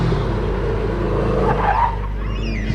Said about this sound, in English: We've got another Subaru, a later model one, Ivan Folgaro's 2008 model is now making its